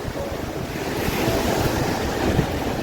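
Sea waves wash steadily at a beach on a cool day, a continuous broad rushing surge mixed with wind buffeting the microphone, with no talking.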